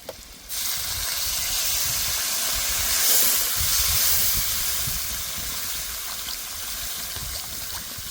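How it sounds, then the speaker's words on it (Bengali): Water poured into a pan of frying potato masala made with Chandramukhi potatoes and green chillies bursts into a loud, steady steaming hiss after a brief quiet start, holding strong throughout. "এই সময় দিয়ে দেব জল।"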